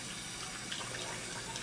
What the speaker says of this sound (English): hold the dentures over the sink, pour out the old water, and go ahead and rinse your cup